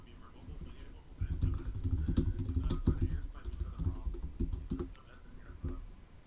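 Rapid clattering keystrokes on a computer keyboard as a search is typed, close and quiet, in dense bursts with brief pauses, over a faint background.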